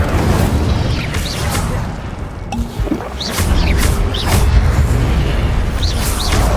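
Incendio fire spell cast in the video game Hogwarts Legacy, with repeated whooshing bursts and crackling flame pops over a dense, loud game soundscape, with several spell impacts in sequence.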